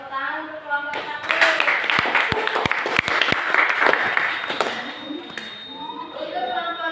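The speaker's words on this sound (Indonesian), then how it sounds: "Oke, tepuk tangan untuk kelompok 1." A classroom of students applauds a presenting group at a junior high school. The clapping is dense and sustained for several seconds, with a few sharp individual claps standing out, and a teacher's voice speaks before and after it.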